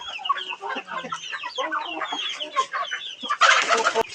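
A flock of farmyard chickens clucks and chatters in overlapping bursts, close and lively, with a brief rustling flurry near the end and no talking.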